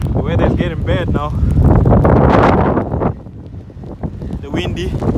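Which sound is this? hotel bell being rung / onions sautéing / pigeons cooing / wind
wind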